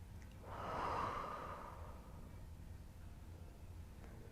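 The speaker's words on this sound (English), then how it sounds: "Take one more full breath here." Deep, full breath taken during a beginners' yoga flow, a soft broadband rush rising near the start and sustained as a long airy exhale, fairly quiet and close with no talking.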